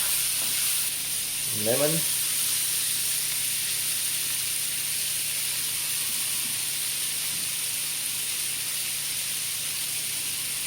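Tuna fries in a pan for Arabic tuna biryani with a continuous, even, hissing sizzle that stays steady throughout, and a voice speaks briefly near the start.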